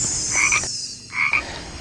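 A small poisonous frog croaks twice in a forest, two short bright calls separated by a brief pause over steady insect-like background hiss.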